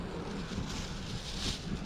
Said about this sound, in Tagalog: hangin lang naman to